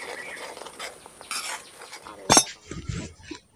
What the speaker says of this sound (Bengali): এইভাবে করে কিন্তু নাড়াচাড়া করতে হবে